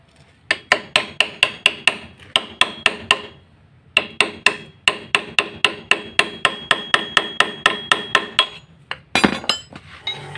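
Hammer blows on metal while removing the clutch housing, primary gear and balancer of a Suzuki Satria two-stroke motorcycle: rapid bursts of sharp, ringing strikes in quick series, close and loud, ending in a brief clatter.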